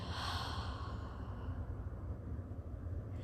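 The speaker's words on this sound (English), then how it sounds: "So take a deep breath in and then out." A deep breath drawn in and let out slowly, steady and close, with a soft airy rush filling the whole short stretch and no talking.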